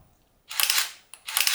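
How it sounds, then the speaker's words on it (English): Two crisp mechanical shutter releases from a Ricoh XR-M 35mm manual-focus film camera, close and loud, each a sharp clack with a short slap, about two-thirds of a second apart in a quiet room. "button as a left-hand shutter release"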